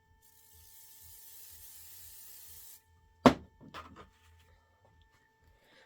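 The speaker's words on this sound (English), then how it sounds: "Let me spray this." A brief hissing spray from an aerosol can, followed by a sharp clack and some rattling handling noises.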